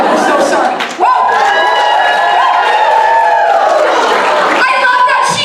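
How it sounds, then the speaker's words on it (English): Lecture hall audience cheering and whooping together, a loud sustained crowd roar with mixed voices that swells near the start and again toward the end. "could everybody cheer her on?"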